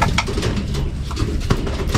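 A racing pigeon gives low, throaty coos close by, repeated over a couple of seconds against steady background noise and faint rustling.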